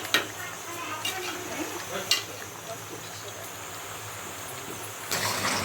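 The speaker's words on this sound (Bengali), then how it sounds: "এবার কিছুক্ষণ কষে নেবেন যতক্ষণ না তেল ছাড়বে" Chicken pieces being stir-fried in oil in a pan for chicken biryani give off a steady, quiet sizzle, with a few sharp clinks from a spoon against the pan.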